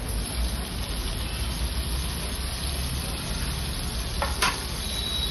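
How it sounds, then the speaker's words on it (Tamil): Onions sautéing in a pan for mutton biryani give a steady, soft sizzle that holds evenly throughout, with a faint clink of a utensil near the end. "வெங்காயம் நல்லா வதங்கிச்சேன்"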